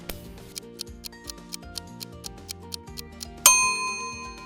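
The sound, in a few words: oven timer ding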